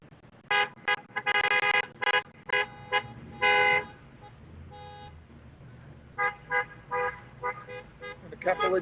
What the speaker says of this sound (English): Great to hear those car horns honking and people having a great time there, Rick.